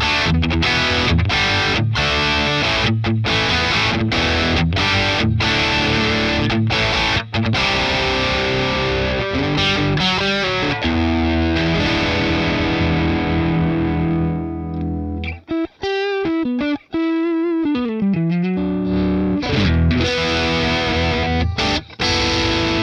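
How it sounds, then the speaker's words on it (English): An electric guitar through a Boss Katana amp set to a higher-gain, Marshall-style distorted tone plays loud chords and riffs, with short pauses and sustained ringing notes near the end. "This is like a bit of a higher gain Marshall style tone."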